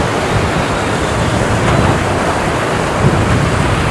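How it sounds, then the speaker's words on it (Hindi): Water rushes steadily beneath a causeway bridge near a riverside temple, giving a loud, unbroken broadband roar that lasts the whole stretch with no talking over it. "नीचे पूरा पानी जा रहा है"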